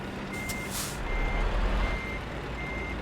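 A truck in Euro Truck Simulator reverses with a steady, repeating backup beep over a constant low engine rumble and brief hissing air releases, with no talk.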